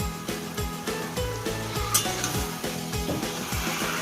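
Five green chillies frying in a pan for a Bengali dish of hilsa fish head with taro leaves, giving a loud, steady sizzle with a rhythmic scrape of stirring throughout.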